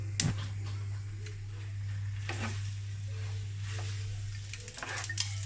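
Pasta is tipped into a pan of simmered sauce and stirred, with soft clunks of a utensil and gentle bubbling and sizzling over a steady low hum from the stove.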